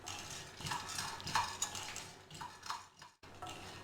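Roasted gram dal (pottukadala) being stirred and dry-roasted in a pan for laddu, with steady scraping and clinking of a spoon against the pan, close and moderately loud, briefly pausing near the end.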